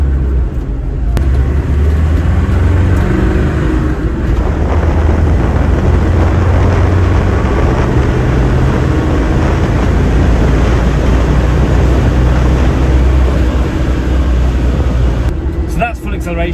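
A remapped stage 2 Land Rover Defender accelerates hard after dropping a gear, its engine roaring loud and steady from inside the cabin amid heavy road and wind noise.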